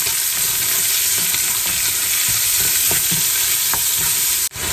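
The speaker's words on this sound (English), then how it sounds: "at this point it's starting to crisp up, so we're going to go in with our onions" Onions sizzle loudly in rendered bacon fat in a pan, a constant hissing fry broken by scattered scrapes and clicks of stirring, close and alone without voices.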